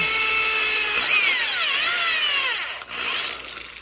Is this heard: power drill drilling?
yes